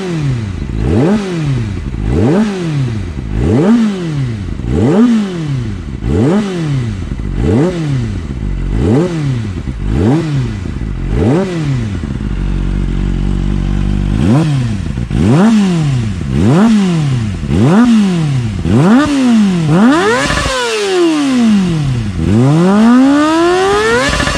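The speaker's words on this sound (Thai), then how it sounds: "เดี๋ยวมาฟังเสียงดูนะครับ เรามาดูก่อนนะครับว่าบิดติดมือดีหรือเปล่านะครับ เดี๋ยวผมจะลองบิดให้ดูนะครับ" A Kawasaki Ninja ZX25R fitted with an aftermarket exhaust revs repeatedly, rising and falling in steady blips with one longer high-rev pull near the end. The exhaust note is loud and close, and no one speaks.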